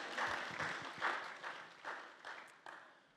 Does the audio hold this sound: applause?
yes